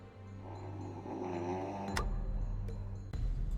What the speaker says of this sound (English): The General sure can snore.